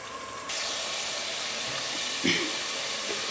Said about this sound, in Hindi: अब इसको फ्राई करेंगे, प्याज और चिकन को फ्राई करेंगे।